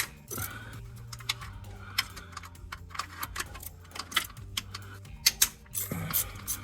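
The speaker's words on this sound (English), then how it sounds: "I'm just gonna crack all the bolts around the oil pan, try to reach everything, and they're all 10 mil" A ratchet wrench cracking loose 10 mm oil pan bolts on a BMW E36 Touring, with bursts of rapid clicking pawl ticks, metallic clanks and short pauses between strokes, close and moderately loud, no talk.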